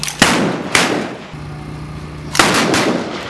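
Loud, sharp gunshots at a fast draw shooting competition, three close blasts with a short gap after the first two, each ringing out with echo and no talking.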